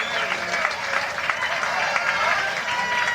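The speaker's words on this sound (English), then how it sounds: "Ladies and gentlemen, a wonderful round of applause." A comedy-club audience applauds comedian Lois Bromfield as she comes on stage at a stand-up show: steady, dense clapping from a sizeable crowd that fills the room for the whole stretch.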